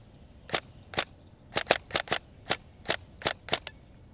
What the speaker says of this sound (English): This is how the gun sounds indoors.